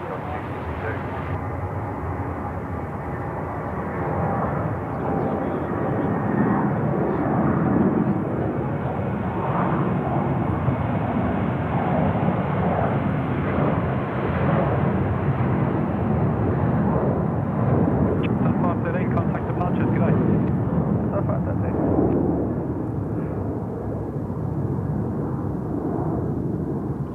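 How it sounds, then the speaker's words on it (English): A jet airliner taking off from runway 34 right at Sydney Airport, a loud, continuous, broad roar that holds steady for nearly half a minute and slowly eases toward the end. "runway 34 right, clear for takeoff"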